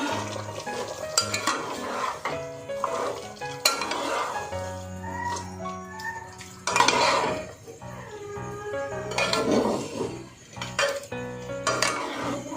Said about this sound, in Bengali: এবার 5 মিনিট পর আমরা ঢাকাটা খুব নেড়ে চেড়ে নেব।